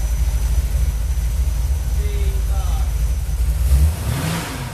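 A car engine fitted with a Holley 4150 carburetor runs at a loud, rumbling idle, then revs sharply near the end in one quick burst. The engine has a lean condition.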